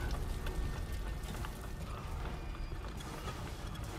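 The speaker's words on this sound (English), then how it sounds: "That's a giant drill" A giant drill grinds and clanks continuously in The Callisto Protocol video game, a dense mechanical rumble with ratcheting rattles that stays steady throughout, with no voices.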